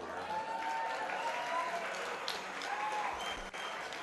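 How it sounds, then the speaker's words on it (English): A live nightclub audience at an orchestra show applauds, a steady wash of clapping heard from a moderate distance, with faint whistles and voices scattered through the crowd noise. "This is the point where most audiences applaud wildly."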